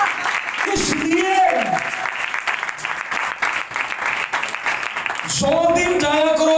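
A church congregation at a sermon bursts into loud sustained applause, with a voice shouting over the clapping at the start and again near the end.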